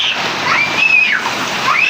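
Shower water runs in a steady, close hiss and splash throughout, with a faint high whistle rising and falling over the spray.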